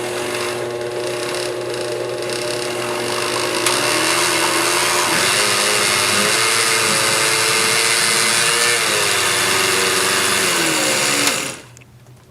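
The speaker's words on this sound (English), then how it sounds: "now let's just turn the blender on" Countertop blender whirring steadily as it purees soft cheese for an Asiago pasta, a loud continuous motor drone that shifts pitch midway as the contents combine, then cuts off abruptly at the end.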